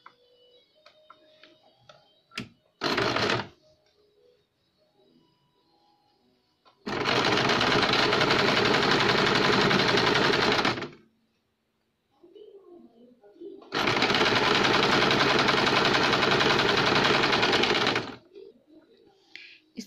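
Sewing machine stitching the lining of a tuxedo-style blouse, two long steady bursts of continuous motor whirring separated by pauses, preceded by a brief short run, with faint birdsong and ticking between.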